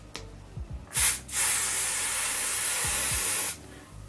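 Got2b hairspray is applied to a wig: a short puff, then one long, close, even hiss lasting a few seconds before cutting off sharply.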